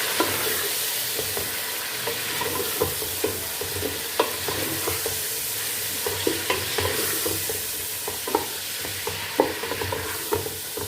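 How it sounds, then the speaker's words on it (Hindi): Chicken and tomatoes are stirred in a frying pan, a spoon scraping and clacking in a quick repeated rhythm over a constant close sizzle. "अब इसमें हम टमाटर डालेंगे और इसको हम अच्छे से मिक्स कर लेंगे"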